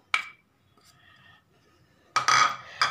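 Spoon clinking and scraping in a bowl while egg vada ingredients are mixed with chili powder, garam masala, salt and cumin powder, a sharp clink near the start, a faint scrape, then loud bursts of clattering at the end.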